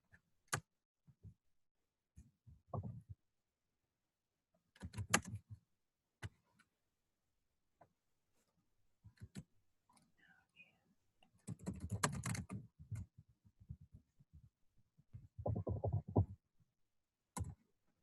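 Sparse, quiet typing on a computer keyboard comes as scattered single key taps and short clustered bursts with pauses, nearby in a quiet room.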